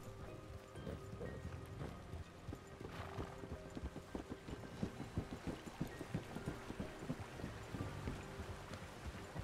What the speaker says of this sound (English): What kind of horse is that?